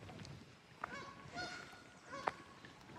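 Ducks or geese honking and quacking near water, a couple of sharp calls standing out over a faint, busy outdoor background with no clear talk.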